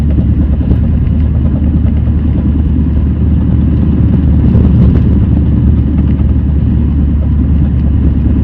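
A Mini Cooper S R53 with a worn front wheel bearing gives a loud, steady engine drone with a continuous rattle beneath it, close and unbroken throughout.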